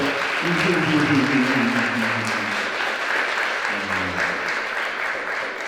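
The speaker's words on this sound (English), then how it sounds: "Round of applause." Audience applause at an awards event, a steady wash of clapping from a room of people with a voice talking over it throughout.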